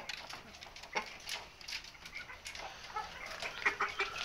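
Aseel chickens clucking softly at a distance, a scatter of short faint clucks and chirps over a steady background hiss.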